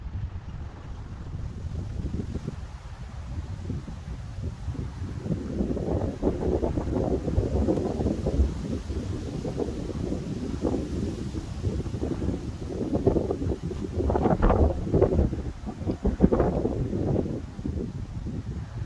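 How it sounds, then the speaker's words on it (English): Strong gusting wind across a golf course near a dog-leg hole, roaring and buffeting the microphone in rising and falling waves with no talking. "with those winds gusting up, if you could hear it"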